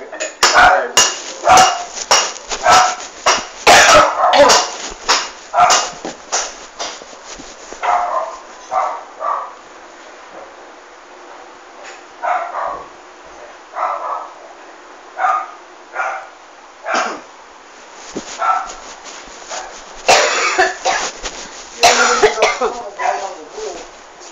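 Repeated coughs in short bursts, mixed with clattering dishes and people talking nearby.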